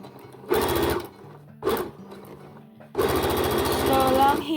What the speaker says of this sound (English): just click your back button on your sewing machine